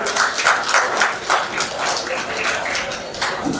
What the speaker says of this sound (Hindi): संजीव भैया के लिए जोरदार तालियां